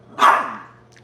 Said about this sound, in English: if you stop barking, I'll stop talking about you